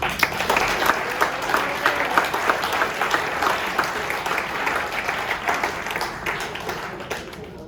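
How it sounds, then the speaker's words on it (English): A school end-of-season party crowd applauds for the freshman team's coach: sustained, dense clapping from many hands, fairly close and steady for several seconds before thinning slightly at the end. "So let's clap it up, Coach Egan."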